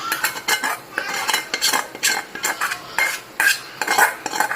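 A utensil stirs paneer through boiling water in a pot, scraping and clinking against the metal in a steady rhythm of short strokes, close and fairly loud.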